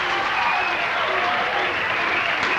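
Steady, dense applause from a large crowd at a women's bowling championship final, continuous and fairly loud throughout.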